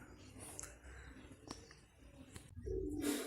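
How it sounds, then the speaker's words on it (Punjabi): Pigeons coo softly nearby in a short, quiet stretch, their low murmuring calls mixed with faint rustling and distant background sound. "ਆਹ ਦੋ ਕਬੂਤਰਾਂ ਵੀ ਬੈਠ ਗਏ"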